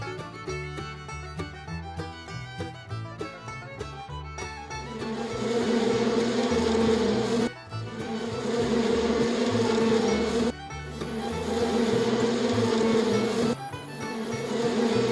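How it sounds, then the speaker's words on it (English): Insects buzz steadily on a farm, a dense droning hum that swells louder partway through and continues with brief cuts and small shifts in tone. "Bugs."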